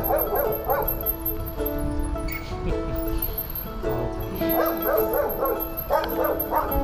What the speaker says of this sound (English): I don't know what this dog is doing, but he's going at everybody and barking at them.